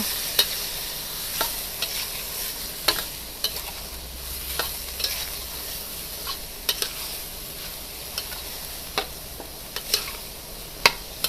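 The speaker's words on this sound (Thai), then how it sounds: "แล้วก็ผัดหมูกับถั่วฝักยาว นะคะ" Minced pork and long beans stir-fried in a pan, with a steady low sizzle and repeated sharp scrapes and taps of the spatula on the pan at uneven intervals.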